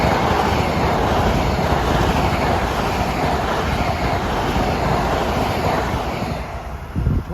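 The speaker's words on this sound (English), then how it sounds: "Here comes a Far Rockaway train." A Long Island Rail Road Far Rockaway commuter train approaches the Forest Hills station, a broad, steady roar of wheels and motion that swells and then eases off, with a brief clunk near the end.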